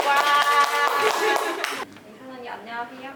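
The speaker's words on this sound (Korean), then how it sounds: "박수 한번 치면서 준비 시작하겠습니다" A small group claps together at the start of an interview in Busan, a brief burst of hand claps mixed with excited voices that cuts off abruptly, followed by quieter talking.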